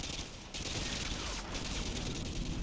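SCAR-H rifle gunfire in Modern Warfare 2, heard as a loud, near, sustained automatic stream with a brief break before firing resumes.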